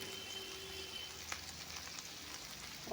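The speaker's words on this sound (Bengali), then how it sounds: "মিশিয়ে দিচ্ছি এরপর দিয়ে দিচ্ছি জিরে গুঁড়ো লঙ্কা গুঁড়ো" Cumin and chilli powder spices frying in a pan for a prawn malai curry, a steady close sizzle with faint stirring scrapes throughout.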